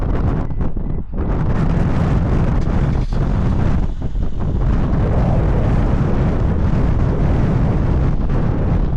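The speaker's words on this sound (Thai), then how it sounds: "ลมพัดแรง" Strong wind sweeping across the Mojave Desert on a family road trip from Fresno to Las Vegas, a loud, steady broadband roar buffeting the microphone continuously with no pauses or voices.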